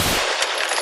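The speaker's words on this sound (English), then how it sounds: "The chase ends in an intense hail of gunfire." Gunfire from a police shootout at the end of a car chase, a dense burst of loud shots in under a second with no talk.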